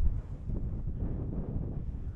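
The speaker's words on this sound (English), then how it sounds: "that wind has picked up quite a bit" Strong wind buffets across an open fell top at sunset during a wild camp on Little Mell Fell, a steady low roaring rumble with gusty swells that press close on the microphone, with no voices.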